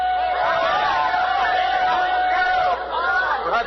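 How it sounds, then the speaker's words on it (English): Lively crowd noise from spectators at the Tom Thumb locomotive run, a dense steady murmur of cheering voices with a long whistle-like tone running through it, close and loud throughout. "Perhaps you heard it over the noise of the crowd"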